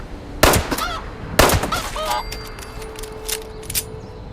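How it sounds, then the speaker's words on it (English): Fowl in the video game Fallout 76 give a few sharp honking, clucking calls over steady outdoor game ambience, with two loud bursts early on and softer calls trailing after. "Is that a chicken? That's a chicken."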